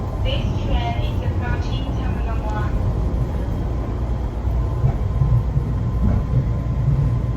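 Steady low rumble of a moving train interior on a Taiwan trip, a continuous broadband drone with faint rattles; voices talk briefly near the start over the running noise.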